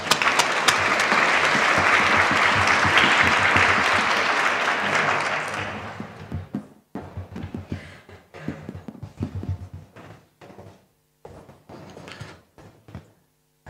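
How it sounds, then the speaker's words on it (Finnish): Welcoming applause from a seminar audience, loud sustained clapping for about six seconds that fades out, followed by scattered footsteps and faint room noise. "Annetaan Mikko Hulkkoselle isot tervetuloa-aplodit."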